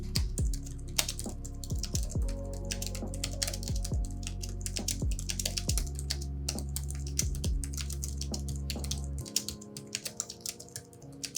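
Fingers type on a Logitech MX Keys keyboard with quiet 1.9mm scissor switches, producing a steady stream of soft, close clicks and taps under a low background hum, with no talk.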